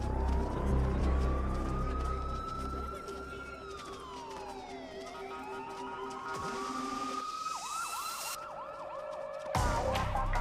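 A wailing ambulance siren rises and falls, then shifts into a fast yelping pattern, loud and close amid busy street noise.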